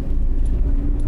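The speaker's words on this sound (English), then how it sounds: "We're driving through Zurich now." Steady low road rumble from inside a car moving through city streets in Zurich, a continuous engine and tyre drone with faint high ticks and no talking.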